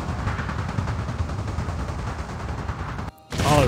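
Dense cannon and musket volleys roll on without pause in a Total War battle during the Fall of the Samurai era. The booming fire stays loud and busy for about three seconds, cuts out briefly, then returns at full force.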